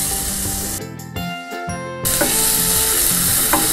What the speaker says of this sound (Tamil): கொஞ்சம் நல்லா வேகட்டும் தக்காளி மசியட்டும்.